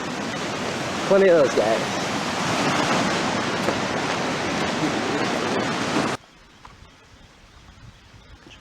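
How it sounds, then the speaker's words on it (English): Running water rushes loudly and continuously for about six seconds, with someone talking briefly over it, then drops away abruptly to a quiet background. "Plenty of that running water."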